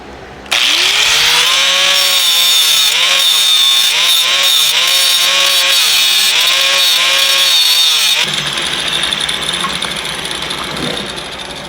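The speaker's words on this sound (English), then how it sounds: "We have to grind on this tool a little bit." A grinder spins up and grinds on a metal tool being modified during engine work, a loud, steady, whining grind that runs for about eight seconds before easing off to a quieter hum, with no talking.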